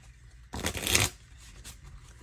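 A deck of playing cards is riffle-shuffled once, a short crisp burst of flicking cards up close, followed by quiet room sound.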